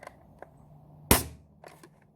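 An AEON PRO airsoft gun with a Drac Flux kit fires a single sharp, loud pop during a seal check, with a few faint clicks around it in a quiet room.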